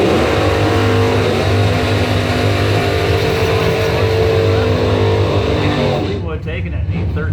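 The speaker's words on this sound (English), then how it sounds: "James Persinger, Caddy Fleetwood left lane, 812 dial in, taking on Ty Hamilton, the 2000 ZX12 out of Thompsonville. Kawasaki drag bike" Drag racing at a strip, a Cadillac Fleetwood in the left lane against a 2000 Kawasaki ZX12 drag bike: loud, sustained engine roar throughout, dropping off near the end as the vehicles pass.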